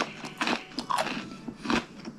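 A dry, crisp Super U rusk is bitten and chewed close up, giving several sharp crunches in an uneven rhythm with no talk.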